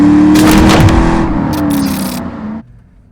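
A 1996 Ford SVT Cobra convertible with a 4.6 V8 and 5-speed manual roars loud and close under acceleration, its engine note rising and holding before cutting off abruptly, leaving a low idle.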